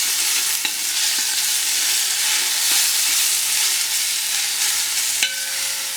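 Onions for a Gujarati Bhavnagar-style chicken masala fry steadily in a pan, a dense continuous sizzle with a few faint utensil clicks, close and fairly loud, no voices.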